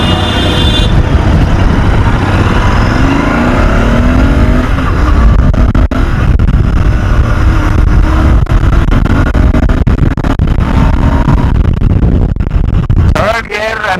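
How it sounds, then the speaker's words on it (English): A Royal Enfield Interceptor 650 motorcycle pulling away and gaining speed on the road, its engine note climbing under a constant loud rush of wind, with someone talking over it throughout. "as soon as I'm leaving the clutch, this bike is, you know, picking up speed"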